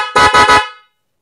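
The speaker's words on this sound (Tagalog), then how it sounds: "kapag pinindot ko to, tutunog yung dual horn. Napakalakas. Nakakabingi." A motorcycle's aftermarket dual horn gives three loud, close honks in quick succession, each about a sixth of a second long with a short gap between them, then rings out into silence.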